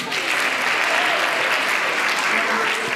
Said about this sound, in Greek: Ο Παύλος, παιδιά, χειροκρότημα.